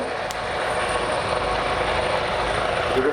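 An Airbus Eurocopter EC135 helicopter flies at an RAF Cosford airshow, giving a continuous broad rotor and turbine roar that stays steady and fairly loud for a few seconds, with faint crowd sounds underneath.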